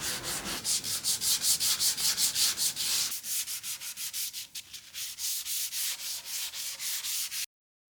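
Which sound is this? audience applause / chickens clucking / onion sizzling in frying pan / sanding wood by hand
sanding wood by hand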